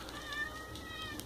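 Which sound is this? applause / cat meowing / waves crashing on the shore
cat meowing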